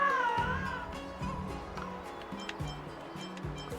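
A cat meows loudly in the video game Honkai: Star Rail with a drawn-out, wavering call, followed by several shorter meows repeating over a low rumbling background.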